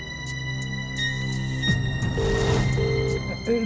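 A phone rings in repeated electronic bursts, with a steady tone and some background clatter, fairly close and no one speaking.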